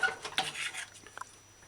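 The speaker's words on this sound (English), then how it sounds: "just before you serve, just give your pot a couple stir" A spoon clinks and scrapes against a pot while stirring a pork and pepper stir-fry, a few close, quiet metallic strokes in the first second, then two light taps and near silence.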